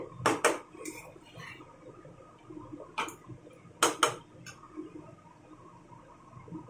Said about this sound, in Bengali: আমি এবার ভাতটাকে খুব সুন্দর করে নাড়াচাড়া করে কিছুক্ষণ ভেজে নেব।